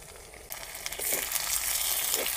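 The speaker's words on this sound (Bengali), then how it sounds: "টমেটোটা ভাজা হয়ে গেছে" Chopped tomatoes with a little salt fry in a clay pot over onions and cumin for a mutton curry, a close, steady sizzle that jumps louder after half a second and stays dense and hissing throughout.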